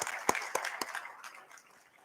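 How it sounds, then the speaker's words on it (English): Brief applause from a small audience at a national HR conclave, a few separate claps fading within two seconds, fairly faint and thin. "a big round of applause for him"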